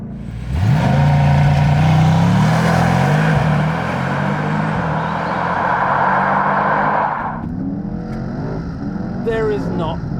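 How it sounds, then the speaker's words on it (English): A loud 2021 Mercedes-AMG E63 S engine roars as it launches hard under launch control, revving up steadily through the gears for several seconds, then drops to a lower rumble. "let's get this launch control started and show you just how quick this car is 0 to 60"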